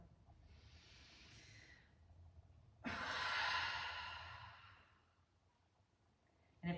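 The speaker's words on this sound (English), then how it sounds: "Big deep breath." One big, deep breath during a quiet yin yoga session, a soft inhale followed by a long, full, airy exhale, close and alone in a quiet room.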